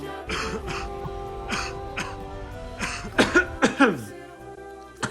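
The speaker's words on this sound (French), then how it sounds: "Oh là là, ça tousse" Coughing and throat clearing nearby, a run of several harsh coughs in quick succession over a faint tonal background.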